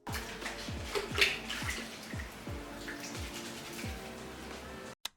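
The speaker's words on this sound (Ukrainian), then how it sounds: "мию голову прямо в тазіку" Water sloshes and splashes in a basin as hair is washed, with a repeated scooping rhythm, close and fairly quiet, ending in a sharp knock.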